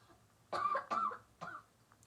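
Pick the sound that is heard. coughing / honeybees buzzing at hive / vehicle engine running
coughing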